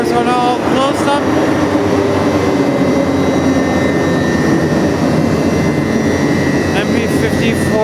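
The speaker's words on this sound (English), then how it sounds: "MP54 662 672 is departure at Agincourt GO station" A GO Transit MP54AC diesel locomotive hauling 12 cars pulls away from Agincourt GO station, its loud engine roar and whine holding steady and close throughout.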